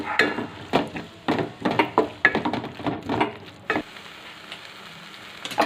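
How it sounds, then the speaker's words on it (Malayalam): Masala and spice powders being sautéed for a chicken biryani, heard as a series of close, sharp scraping stirs in a pan with short pauses and a faint sizzle underneath. "പൊടികളുടെയൊക്കെ പച്ചമണം മാറുന്നത് വരെ വഴറ്റിയെടുക്കണം"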